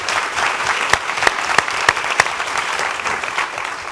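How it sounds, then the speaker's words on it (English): Audience applauding Representative Will Weatherford at a joint legislative workshop, a steady dense wash of many hands clapping, with a few sharper louder claps standing out above the crowd over about four seconds. "I don't know if you've received an applause, but you sure deserve one"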